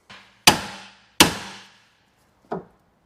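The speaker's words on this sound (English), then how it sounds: "if we give that a hit with a hammer, it should hopefully shock the metal enough so that it can release it" Hammer blows on a car suspension taper to free a wishbone: three hard metallic strikes, evenly spaced at first and with ringing decay, the last one lighter and duller.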